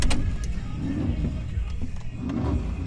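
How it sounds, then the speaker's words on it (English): A Cadillac CTS-V's electric power windows hum upward at a drag strip, faint over a steady low engine idle inside the car. "Roll the windows up so no bugs get in here"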